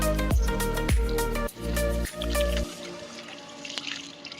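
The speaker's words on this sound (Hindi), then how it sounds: "इधर गंदा पानी निकल रहा है।" Water runs and splashes steadily while a motorcycle helmet is washed, with a few brief pauses in the flow before it thins out to softer trickling and drips.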